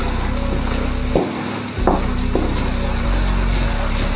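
Powdered spices cooking with meat and onions in a pot for aloo gosht, a loud continuous sizzle with a few brief scraping stirs and one short dip in the middle, no voices.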